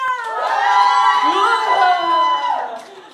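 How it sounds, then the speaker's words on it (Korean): A crowd of children cheers and shouts loudly together in a classroom, a sustained, dense roar of high voices that holds steady for about three seconds before tailing off. "여러분 함성 엄청 났어요"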